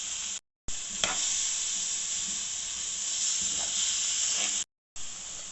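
White vinegar and soy sauce hitting a hot pan with vegetables, a loud continuous hissing sizzle, close and steady, broken by two short gaps of silence.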